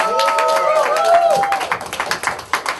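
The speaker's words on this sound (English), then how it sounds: "Can we give up a round of applause for Io?" Audience applause for a speaker at a conference, clapping that swells and then thins into scattered individual claps, with tonal whistles or cheers early on and some crowd noise mixed in.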